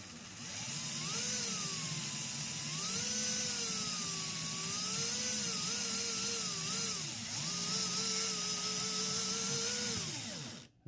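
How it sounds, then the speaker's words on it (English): The electric motor of a WPL C14 four-wheel-steer RC car spins its two-speed gearbox in high gear, a loud continuous whine that rises and falls with throttle changes before cutting off. "It's just to run the motor to check if this gearbox is running smoothly or if there's anything wrong with it."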